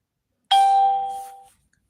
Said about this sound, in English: my doorbell don't ring unless it's a confirmation